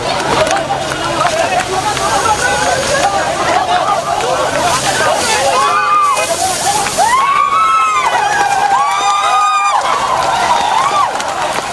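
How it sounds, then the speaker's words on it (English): Police water cannons firing on a street protest march in Sri Lanka, a steady rushing, sloshing spray beneath crowd hubbub, with whistles and a voice talking over the scene. "Water cannons were fired on the protest march twice by Sri Lanka police."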